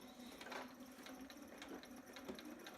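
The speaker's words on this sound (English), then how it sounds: "So I'm just going to straight stitch across." A home sewing machine runs a straight stitch across fabric, a soft, steady mechanical whir with faint rhythmic ticking, quiet and continuous throughout.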